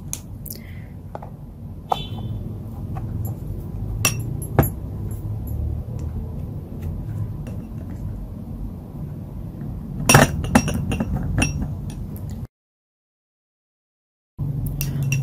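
Glycerin and honey are stirred together in a glass bowl, giving soft clinks and taps of the spoon against glass scattered over a low room hum, with a sharper cluster of knocks partway through and a short silent gap near the end.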